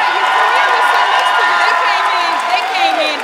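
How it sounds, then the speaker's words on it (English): Applause and cheering from the audience at the 2019 River Rouge High School commencement: steady, loud, continuous clapping and whoops from a large crowd throughout. "Give him a round of applause."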